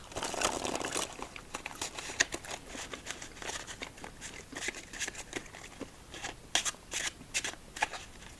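Rapid papery riffling and flicking of playing cards being shuffled, close up, in several quick bursts with brief pauses between.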